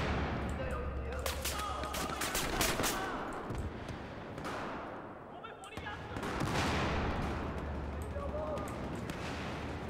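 Battlefield 1 battle audio carries rapid bursts of gunfire and booming explosions over a dense, loud din, and a player talks over the action.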